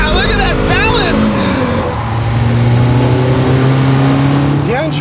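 A BMW M3 Competition engine revs hard on a race track, loud rising and falling pitch sweeps through gear changes, sustained and close, with someone talking over it briefly.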